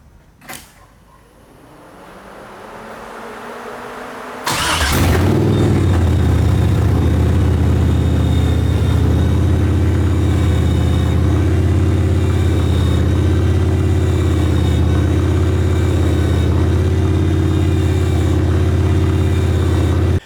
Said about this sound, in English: I'm pretty stoked the car started right up.